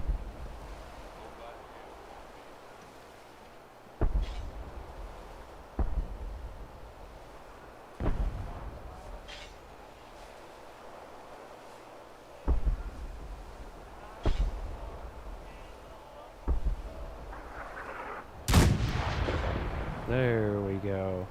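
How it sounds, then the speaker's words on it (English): An M177 howitzer mod in Fallout 4 fires repeatedly near Kingsport Lighthouse: about eight heavy booms spaced a couple of seconds apart over a wind and surf-like rumble, with a louder crack near the end. "The 177, I believe this is, M177 howitzer is just such a nice mod"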